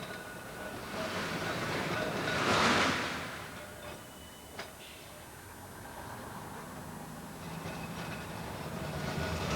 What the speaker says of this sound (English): they rattle along and they're clearly old and historic things